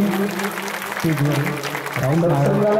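Audience applause at a Marathi kirtan gathering, partly masked by a voice and tonal music running through the whole stretch.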